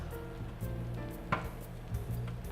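Vegetable omelette with cheese and onions sizzling in a frying pan, a soft steady hiss with a few light clicks and taps from the pan throughout.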